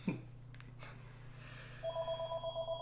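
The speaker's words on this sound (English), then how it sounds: "Hey, I think the phone's ringing." A telephone rings indoors with a steady electronic warble, preceded by a low continuous hum and a few faint knocks, the ring pulsing loud and close near the end.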